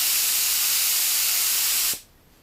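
Spray gun fed by an air compressor, trigger held at around 30 to 40 psi, giving a loud, steady, close hiss of air that cuts off abruptly near the end.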